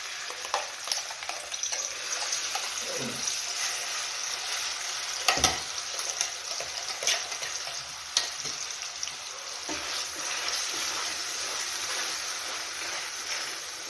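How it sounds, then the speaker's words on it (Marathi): Spice masala sizzles in hot oil for a fish curry, a bright continuous crackling hiss with occasional spoon taps and stirring scrapes, close and steady throughout. "आपलं तेल तापलेलं आहे मसाला टाकून घेऊया"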